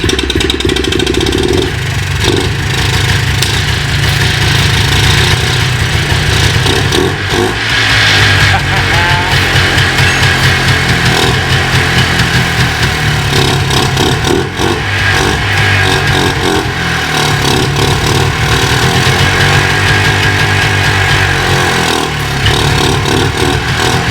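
An old four-wheeler ATV engine runs loud and steady throughout, a continuous mid-pitched mechanical drone with rough variations in revs and no break in the noise.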